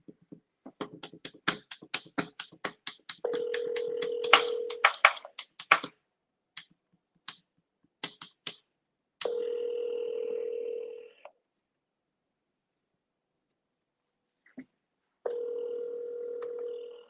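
Phone call placed through a computer: a burst of rapid DTMF keypad tones, then long steady ringback tones repeating with silent gaps between them, clear and close with no voices.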